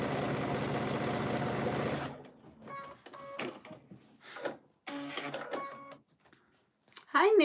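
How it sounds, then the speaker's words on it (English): A sewing machine stitches fabric a quarter inch from a drawn line in short bursts of rapid mechanical whirring, separated by pauses and someone talking, following a stretch of louder background noise. "I sew a 1/4 inch away on both sides"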